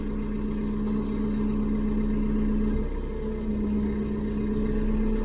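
Tractor engine running steadily near a pond, a low, constant idling drone with a brief dip in pitch partway through, no talking.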